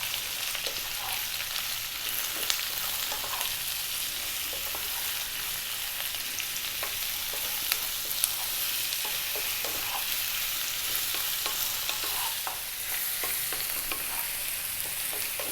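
Garlic ginger paste with salt sizzling steadily in a hot pan while being stirred, a continuous bright frying hiss with small scraping and spitting ticks throughout, no voices.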